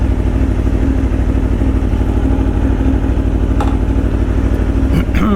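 An Aprilia motorcycle engine runs steadily and loudly up close, a deep continuous throb that holds level for the whole stretch, with a couple of brief clicks near the end.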